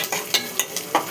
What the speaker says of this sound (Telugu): ఇవి ఇంకా కొంచెం వేగాలి.